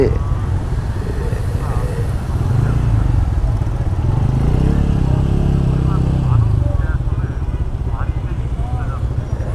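Crowds of motorcycles run along the road near the Padma Bridge toll plaza, making a steady close engine drone and traffic rumble while someone talks over it.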